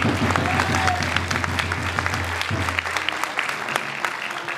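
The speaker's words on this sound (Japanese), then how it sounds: "今一度大きな拍手をお送りください。" Audience applause at a football club's new-season lineup presentation, a steady wash of clapping that runs throughout with a low murmur beneath it.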